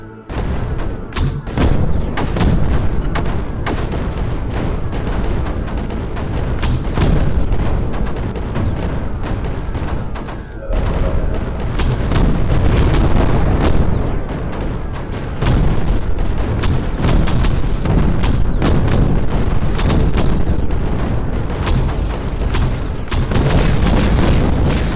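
Bombs explode continuously in the video game Creeper World 4, a loud, dense barrage of booms and blasts with rumbling low end and occasional higher electronic tones.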